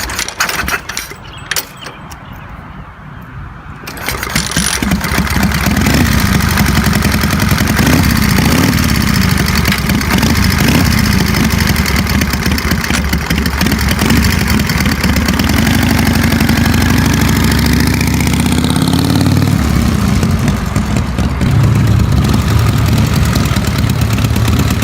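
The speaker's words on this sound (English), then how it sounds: "Experience the 1929 Indian 101 Scout's 750 cubic centimeter V-twin engine, a 45-horsepower gem from the golden age of motorcycling." A 1929 Indian 101 Scout 750cc V-twin motorcycle engine runs steadily and loudly after a short quieter start, a continuous low rumble with a slight change near the end.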